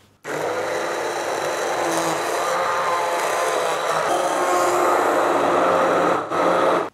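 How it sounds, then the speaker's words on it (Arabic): A blender whirs continuously at high speed, grinding a tomato and roasted vegetable soup mixture loudly and steadily for several seconds before a brief dip and restart. "وأطحن كل هالخليط مع بعضه."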